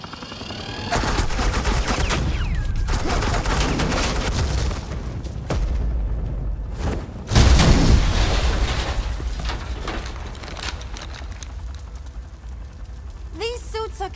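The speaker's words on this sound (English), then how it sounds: "Suppressing fire." Suppressing gunfire in the Telltale Batman: The Enemy Within game, loud bursts of rapid shots and booms that come and go over several seconds, with a heavier blast midway and a brief voice near the end.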